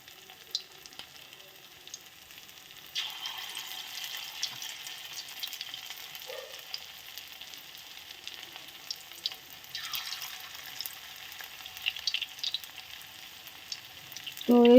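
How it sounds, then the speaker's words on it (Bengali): Drumstick leaf pakoras sizzle steadily in hot oil in a wok, with a constant frying hiss that swells as more pieces are added one by one, nearby and unaccompanied by talk. "কড়াইতে তেলটা গরম হয়ে গেছে, তো আমি এখন পকোড়াগুলো দিয়ে দেবো আস্তে আস্তে।"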